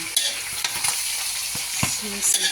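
Pork sisig loaded with chili sizzles steadily in a hot pan while a utensil stirs and scrapes through it in short, close, irregular strokes, with no talking.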